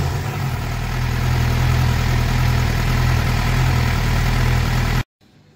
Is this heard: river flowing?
no